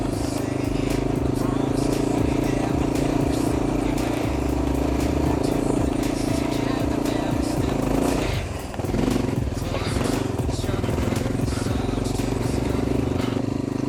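Honda XR650L dual sport motorcycle climbing a rough uphill trail, its engine droning loudly and continuously up close, with clattering and scraping from the terrain.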